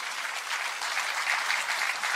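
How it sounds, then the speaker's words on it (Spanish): A church congregation claps steadily through a sermon on missions, a dense, even wash of applause with no voices on top. "denle un fuerte aplauso al Rey de Reyes y Señor de Señores."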